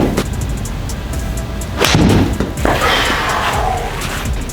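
Golf clubs striking golf balls during a long practice session, a few sharp, loud impacts rising over steady background noise, with no voices.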